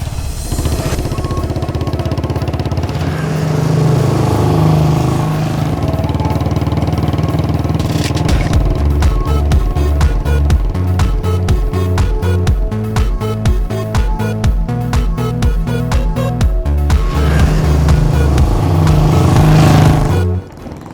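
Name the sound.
motorbike riding then stopping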